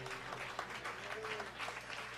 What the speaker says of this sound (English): give these two great gentlemen a round of applause